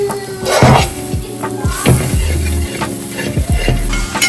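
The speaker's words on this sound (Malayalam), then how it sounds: "ഇനി നമുക്കത് നല്ലോണം മിക്സ് ചെയ്ത് കൊടുക്കാം." A spoon scrapes and stirs thick chicken curry masala in a pan for a country chicken dish, with repeated close scraping strokes over a soft sizzle.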